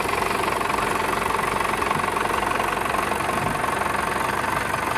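A mid-1980s Ford 7710 medium-sized farm tractor engine runs steadily, a loud, close, even diesel drone with a faint knocking texture throughout, no voices.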